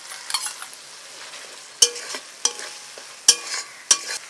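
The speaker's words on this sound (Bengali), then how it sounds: "এবার আমি ফেটানো টক দইটা দিয়ে দেব।" Whisked sour yogurt going into fried masala in a pan, where a soft sizzle sits under several sharp clinks and scrapes of a spoon against the vessel.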